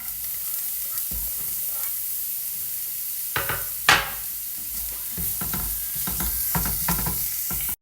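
Bitter gourd (ampalaya) and egg sauté in a pan with a steady close sizzle, broken by scraping stirs and clinks of a utensil, with no talk.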